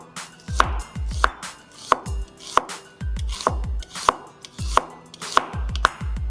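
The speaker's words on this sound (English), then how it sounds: "And we're going to slice them thinly." A knife slices onions thinly for birista on a cutting board, a close, crisp run of chopping taps in quick clusters with short pauses between them.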